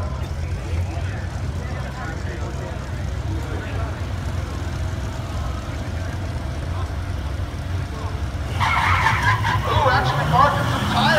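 Drag race cars launch side by side at a Roadkill Zip Tie Drags event, a $3,000 hooptie challenge including a Chevy truck; a steady engine drone and crowd noise run throughout, then a louder surge of squealing tires and roaring engines comes near the end.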